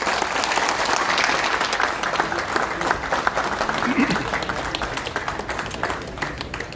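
Members of a bar association gathering in honor of Tahir Khurshid Raina, during a visit by Chief Justice Sanjeev Kumar and Justice Sanjay Dhar, give a sustained round of applause, dense and even, with voices murmuring underneath.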